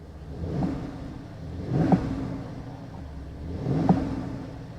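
A 2011 BMW X6 idles at a Copart auction yard, a low steady engine hum with three soft periodic swells and faint thumps, heard nearby with no one talking.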